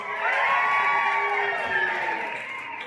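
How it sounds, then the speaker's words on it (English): Festival crowd at a rockabilly pinup pageant in Southport, Australia, cheering loudly with whoops and shouts in a sustained roar that fades slightly toward the end. "that is exactly how loud we'd love for you to cheer"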